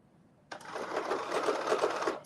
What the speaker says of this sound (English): And now we're stitching a 5/8 of an inch.